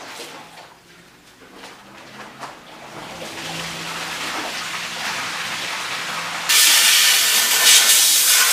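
Compressed air from an air gun hisses steadily while blowing a rinsed fuel tank dry on a 1976 Mazda RX-5 Cosmo restoration, building gradually and then jumping to a louder, brighter rush near the end.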